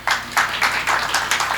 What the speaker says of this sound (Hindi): इनके लिए एक बार जोरदार ताली बजा दीजिए।